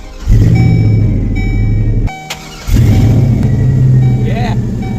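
A 2003 GMC truck engine cranks and catches after a blown fuse is replaced, then settles into a loud, steady idle close by. A brief pause breaks the running partway through.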